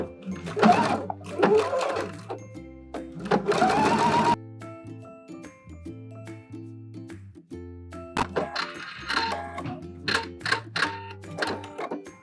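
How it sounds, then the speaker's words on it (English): Sewing machine stitching along the groove of hem tape with backstitching, bursts of fast mechanical clatter separated by pauses and low motor hum, close up with no talk. "we're going to stitch in that little groove on the hem tape, and don't forget to backstitch"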